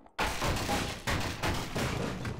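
Gunfire in the Half-Life video game: a loud burst of shots opens abruptly, followed by repeated heavy booming volleys that keep the level high throughout, with no talking.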